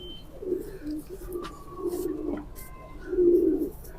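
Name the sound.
pigeons cooing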